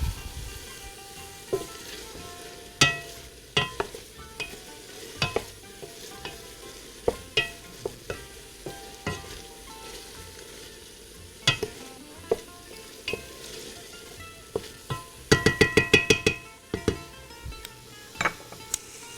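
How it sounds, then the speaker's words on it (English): Lamb stew ingredients stirred and browned in a pot, with a steady sizzle of frying under repeated sharp scrapes and clinks of the spoon against the pot, a quick burst of clatter near the end. "So keep stirring. You want everything nice and brown."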